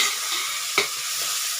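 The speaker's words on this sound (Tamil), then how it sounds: "இப்போ இது கொஞ்சம் வதங்கி வரட்டும்." Chopped tomatoes sizzle steadily as they sauté in a soya chunk (meal maker) masala. A bright, constant frying hiss is broken by one clear knock of a spoon stirring the pan midway, with no speech.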